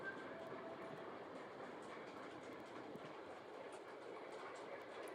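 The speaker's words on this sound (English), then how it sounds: "Let's do some trains running in the background." Trains run in the background, a faint, steady rolling rumble with light rhythmic clatter of wheels on rails, distant and continuous, ending with a sharp brief click.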